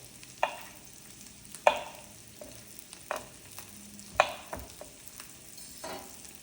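Battered fish sizzles as it reheats in a frying pan to re-crisp the skin and batter, with a steady frying hiss broken by several sharp clinks and scrapes from stirring, close and moderately quiet.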